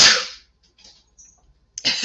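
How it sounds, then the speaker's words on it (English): A single sharp sneeze bursts out at the start, followed by faint breathy sounds and a short rustling burst near the end, close to the microphone with no talk. "I guess I'm going to sneeze again"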